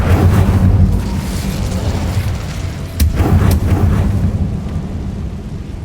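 Incendio fire spells cast in Hogwarts Legacy roar loudly and continuously, with booming whooshes of flame and a couple of sharper crackling bursts midway.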